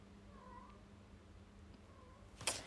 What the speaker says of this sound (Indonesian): Kucingnya berisik banget ya.